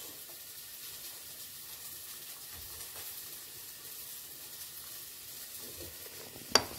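Vegetables sizzle softly and steadily in a pan for a poke bowl, a faint continuous hiss ending with a couple of sharp clinks.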